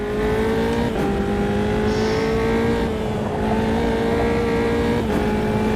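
Race car engine in the sim racing game Automobilista 2 droning steadily at high revs with slight pitch shifts as it accelerates, loud and continuous throughout with no talk.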